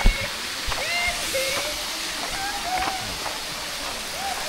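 Steady rushing water flows throughout, with chirping birds and faint distant voices over it.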